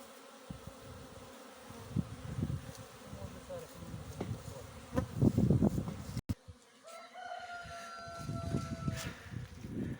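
A steady buzz of honeybees on a cleansing flight fills the air around a hive in early February, with a rooster crowing faintly in the distance.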